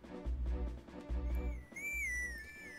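A short melodic whistle call in Twilight Princess HD, rising and settling in a few clear sustained high tones after a stretch of low rumbling game music and thuds, moderately loud with no talking.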